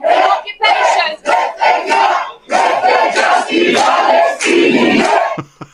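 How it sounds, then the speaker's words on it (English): Protest crowd shouting and chanting in loud rhythmic bursts separated by short pauses, close and forceful. "the crowd was really fired up"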